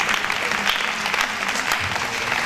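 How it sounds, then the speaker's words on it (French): An audience at a French slam poetry championship night applauds loudly and steadily, a dense sustained clapping that fills the room without pause. "je vais demander d'applaudir très fort pour accueillir notre premier intervenant de cette soirée, Fabrice le conteur"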